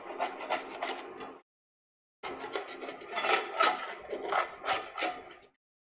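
Scraping browned scallop bits off a pan while making cioppino risotto: close rasping scrapes in two bursts separated by a short silence, rhythmic and gritty.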